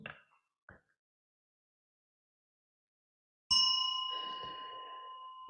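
A Buddhist temple bell is struck once during a bell song, ringing out loud with a sustained, slowly decaying metallic tone, preceded by faint brief sounds and quiet.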